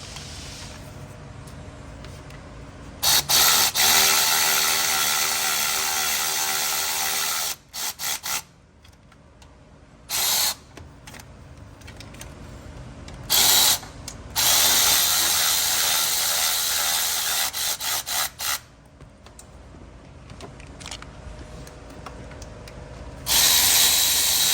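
A hand ratchet tightens the thermostat housing bolts on a 2013 Dodge Avenger engine, loud rapid clicking in repeated bursts with short pauses between strokes, close up and with no voices.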